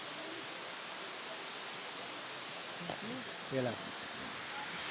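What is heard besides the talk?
Matambuka Falls waterfall in Paete, Laguna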